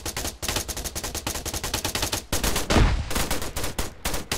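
Rapid automatic gunfire laying down suppressing fire in a tactical shooter match, close and loud, sustained bursts of rattling shots with brief gaps and one heavier booming report midway.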